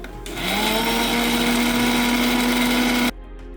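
A mixer grinder whirs at high speed blending chhena with sugar-free sweetener and a little milk into a paste in a mixing jar, a loud steady motor drone that starts abruptly and stops after about three seconds.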